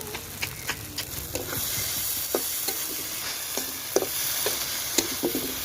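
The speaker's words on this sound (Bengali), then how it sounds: "আলুর সঙ্গে কষাই নিচ্ছি" Fried potatoes sauté in a sizzling spice paste in a pan during rooftop cooking, with a steady hiss of frying under intermittent spatula scrapes and taps against the pan.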